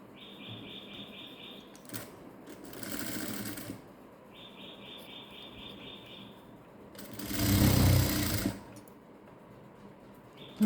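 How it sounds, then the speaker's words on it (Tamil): A sewing machine stitches lining cloth in short bursts, its motor whirring steadily between pauses, fairly close and clear. "கீழே வச்சுட்டு நம்ம ஒரு தையல் போடலாங்க."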